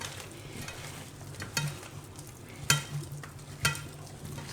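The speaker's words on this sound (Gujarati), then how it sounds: "તો 3 ચમચી જેવું આપણે જરૂર પડે તો એને આપણે મિક્સ કરી લેવું" A spoon stirs spice mix into a potato and aubergine curry in a pan, giving several soft scraping strokes over a quiet, steady sizzle, close and fairly faint.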